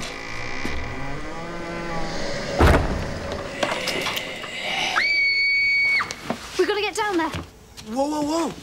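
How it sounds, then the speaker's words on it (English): Screams of terror break out amid a busy, chaotic scene: a loud thud, then a long, sustained high-pitched shriek and several wavering cries, with voices talking throughout. "You're running towards the screams of terror!"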